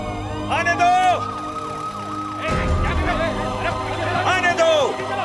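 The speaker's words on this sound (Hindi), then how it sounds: "एम्बुलेंस को आने का रास्ता दो" An ambulance siren wails loudly with rising and falling tones, its pitch sweeping as it approaches and passes, under a street crowd's babble with people talking and shouting.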